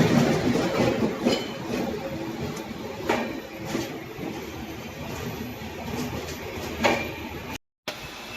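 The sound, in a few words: passenger train interior, general coach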